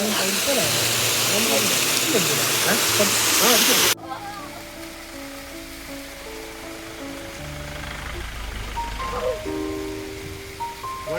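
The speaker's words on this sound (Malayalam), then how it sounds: "ഒരു വെള്ളച്ചാട്ടമുണ്ട്" A small waterfall of clean, drinkable water beside the road on a bus trip to Silent Valley gives a loud, steady rush for about four seconds before an abrupt cut to quieter sustained tones and voices.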